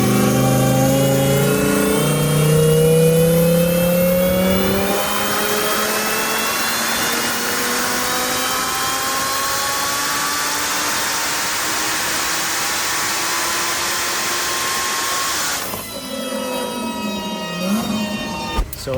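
A 1800 hp twin-turbo Lamborghini Huracan Performante accelerating hard on the German autobahn, its engine note climbing steadily through a long gear with turbo whoosh, then a sharp shift and renewed climb, loud and close throughout.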